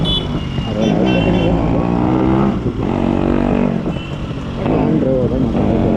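Yamaha RX two-stroke motorcycle revving loudly at night on a Bangalore street, its engine note rising and falling in repeated throttle blips over about six seconds, with traffic and voices mixed in.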